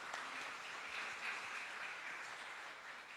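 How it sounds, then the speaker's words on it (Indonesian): A church congregation at a GKJ Tanjungtirto roadshow service in Maguwoharjo applauds, giving thanks to the liturgist and music team. The clapping is soft and steady, heard from a distance as an even, low wash of hand claps. "Tepuk tangan."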